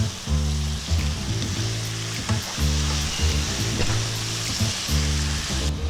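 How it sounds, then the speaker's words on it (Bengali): Chicken pieces sauté in a pan with ginger, garlic and green chili paste, giving a steady close sizzle with occasional stirring scrapes beneath a prominent tonal background. "খুব ভালো করে মিশিয়ে আমি মাংসগুলো কষিয়ে নেব"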